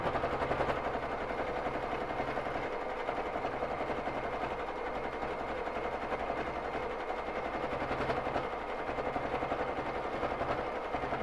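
A domestic Baby Lock Jazz sewing machine free-motion quilting on a frame runs continuously at a rapid, even stitching rhythm, close by and fairly loud, with no talking.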